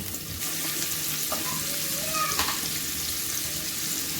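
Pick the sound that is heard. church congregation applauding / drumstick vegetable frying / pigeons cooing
drumstick vegetable frying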